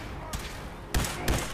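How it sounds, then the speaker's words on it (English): Semi-automatic laser rifle in Fallout 4 fires several quick bursts, a single shot followed by two sharp shots close together, over a constant game background. "this laser gun is my favorite gun, because it does so much damage"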